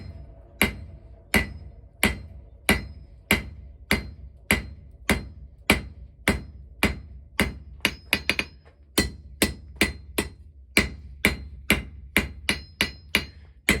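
A blacksmith's hammer strikes hot steel on an anvil in a steady series of sharp, ringing blows, about two per second, close and clear with brief pauses between strikes.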